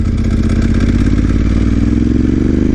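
Motorcycle engine with aftermarket exhaust pipes, loud and close, holding a steady rev with a rhythmic pulse and rising slightly in pitch toward the end while riding a mountain pass road in Japan.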